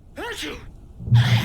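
A short sneeze in the video game Alan Wake, caused by dust, comes as a quick sharp burst, preceded by a brief voiced intake and followed by a louder breathy release, close and alone.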